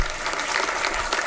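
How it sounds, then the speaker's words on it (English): Audience applause at a Charter Day honors ceremony, thick and continuous clapping from a large crowd, fairly loud and steady. "I would like to applaud the people who came to support me"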